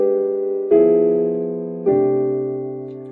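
Piano dominant seventh chords with appoggiaturas moving downward: two rich chords struck about a second apart, each held and slowly fading, played solo and up close.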